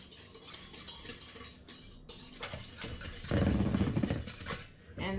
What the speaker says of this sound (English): Whisk it together with your little whisk.